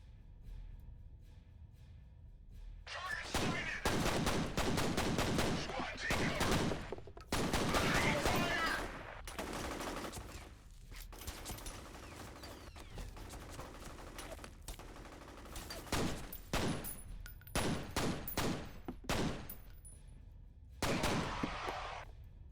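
Bursts of rapid gunfire from blind firing through dust in a video game, loud and sharp, coming in several clusters with brief gaps and quieter stretches between.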